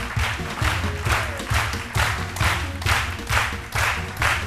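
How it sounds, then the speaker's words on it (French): A TV studio audience applauds a tennis player arriving on a midday talk show set, loud rhythmic clapping in regular bursts over a steady beat of backing music. "je vous demande d'applaudir très fort"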